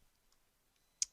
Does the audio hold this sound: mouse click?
yes